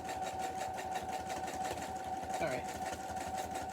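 A sewing machine with a universal needle stitches through a soap pocket, its steady motor whir and rapid needle rhythm running continuously close by, with a brief spoken remark over it.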